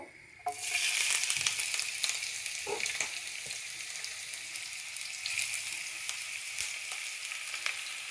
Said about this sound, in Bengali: মাছটা ভাজার জন্য তার আগে আমি এখানে একটু পেঁয়াজ কুচি ভেজে নেব